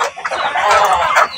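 Texas and Rhode Island hens clucking nearby in short, bright bursts, a few overlapping calls with a brief pause near the start and no talking.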